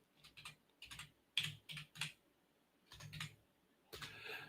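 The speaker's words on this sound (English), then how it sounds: "I'm trying to type over my microphone, so it's hard." Bursts of computer keyboard typing, close and fairly quiet, coming in short irregular clusters of keystrokes separated by brief pauses.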